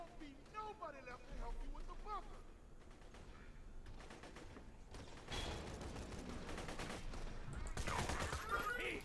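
Mortar bombardment in a video game: a rattling barrage of muffled blasts and mechanical clatter builds and grows denser over the clip, with a voice speaking early on.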